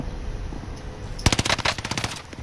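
Automatic gunfire in a Call of Duty-style battle royale match on the Rebirth Island map, a quiet stretch then a sudden close, loud burst of rapid shots running to the end.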